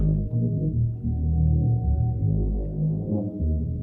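A sustained, droning synth tone with a washy reverb tail, low and thick, playing steadily on its own without any voices.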